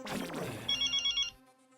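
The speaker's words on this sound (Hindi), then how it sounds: "बॉस का फोन आ गया" A telephone bell rings in a short burst of several rapid trills after a moment of indistinct room sound, clear and close, in a Hindi TV comedy scene.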